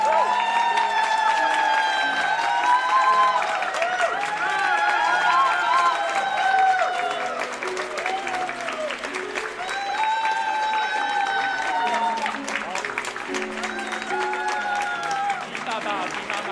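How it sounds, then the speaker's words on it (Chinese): Wedding guests at a church ceremony clap steadily for the groom's parents, a sustained crowd applause with music and scattered voices running underneath throughout. "掌声欢迎他们。"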